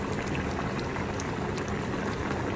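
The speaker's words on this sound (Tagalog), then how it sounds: "Ayan, kumukulo na siya." Chicken adobo bubbles and churns at a steady rolling boil in a pot, a dense continuous hiss and burble close by with no voices.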